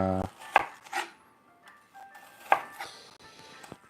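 A knife chops through an onion on a cutting board in a home kitchen during breakfast cooking, giving a few separate crisp knocks spaced apart, close and fairly quiet, with a faint hum behind.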